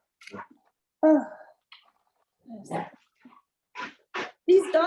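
Dogs give short, sharp barks and yips in scattered bursts, some high and whining, separated by quiet gaps, close and fairly loud.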